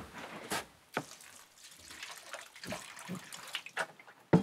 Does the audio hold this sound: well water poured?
yes